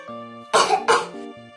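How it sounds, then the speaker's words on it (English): A single person gives two quick, close coughs in a row, each a short harsh burst, with a faint tonal background hum around them. "I have a cough."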